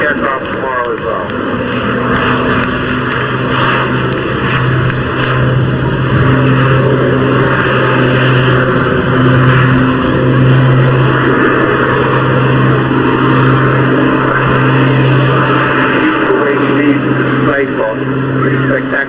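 A Jet Pitts aerobatic biplane performs an airshow display at the English Riviera Airshow, its engine a steady, loud drone with a sustained tonal hum throughout, while a commentator talks over it.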